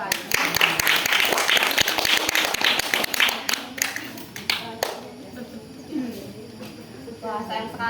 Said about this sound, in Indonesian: Mungkin boleh tepuk tangan sekali lagi.